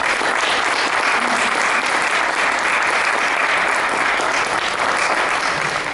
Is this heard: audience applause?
yes